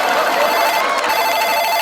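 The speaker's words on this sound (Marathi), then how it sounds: "फोन आला." A telephone rings loud and steady, its trilling tone filling the whole moment with no voices over it.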